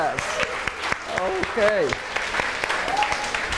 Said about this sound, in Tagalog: Yun pong the best na palakpak natin para kay Jesus.